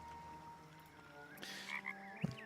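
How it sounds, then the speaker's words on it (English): Soft frog croaks from a video game, a couple of brief calls rising over layered ambient game music, with a low thump near the end. "It croaks softly, calmed."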